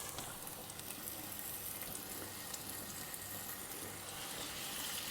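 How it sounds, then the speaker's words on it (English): Beef frying in very hot oil in a Dutch oven, a steady, dense sizzle with fine crackling spatters that holds evenly, moderately close and fairly quiet, with no talk. "Very hot, and now we start frying it off."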